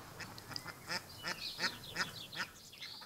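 Ducks quack repeatedly on a farm in the Landes, a busy overlapping chorus of calls at moderate distance in a quiet outdoor setting.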